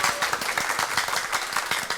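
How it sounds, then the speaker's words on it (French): Audience applause at a school quiz match between two lycées, a brisk steady patter of many hands clapping close by for about two seconds without pause. "applaudis, applaudis, applaudis."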